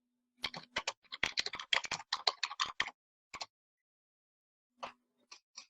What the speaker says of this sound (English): I'm such a slow typer when I'm typing like this